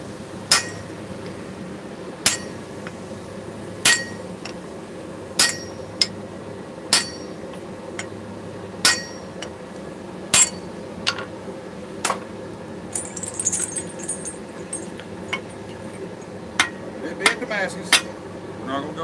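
A hammer rings sharply on metal over an anvil at a forge, about a dozen bright, spaced clanks with irregular timing over a low background hum.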